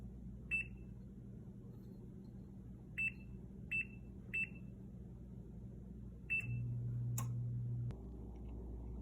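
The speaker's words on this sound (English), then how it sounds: "let's preheat the oven" Oven control panel being set to preheat: several short, clear electronic beeps at irregular intervals, followed by a longer, lower tone, over a quiet background hum.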